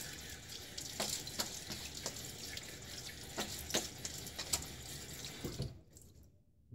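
Tap water runs steadily into a sink as a Gillette RFB 77 safety razor is rinsed, with a few sharp knocks and clinks along the way before the flow cuts off near the end.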